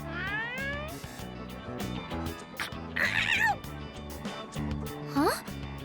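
A cat meows in the video game Persona 3 Reload, with a few short, rising cries heard near and fairly loud over game background sounds and talk.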